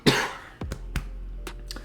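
A person with allergies and throat drainage coughs several short, sharp times at close range, the bursts spaced irregularly with no talking.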